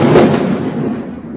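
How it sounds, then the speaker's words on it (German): An explosion blows up a toilet bowl, a loud booming blast that rolls off into a long fading rumble. "Wir haben die Schüssel gesprengt."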